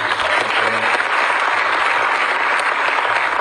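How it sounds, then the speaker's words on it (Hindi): Dense, loud applause from an audience at a Chhattisgarh board chairman's oath-taking ceremony, steady unbroken clapping across the whole stretch with faint murmurs beneath. "जोरदार ताली।"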